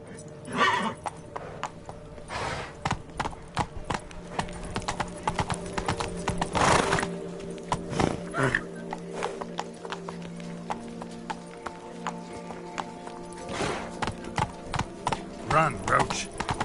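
Geralt's horse Roach in The Witcher 3, hooves clip-clopping at a steady gallop on hard ground, with a couple of neighs and whinnies breaking through and game sounds layered around the hoofbeats.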